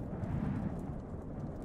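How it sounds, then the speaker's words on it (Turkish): Video game storm, a dense continuous low rumble of thunder and heavy rain roaring steadily throughout, loud and close with no distinct breaks. "Fırtına çıktı."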